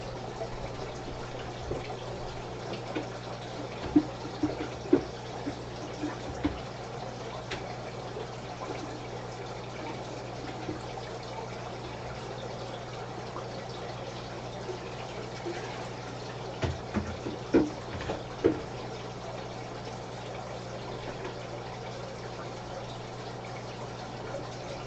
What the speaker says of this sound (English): I gotta go change the water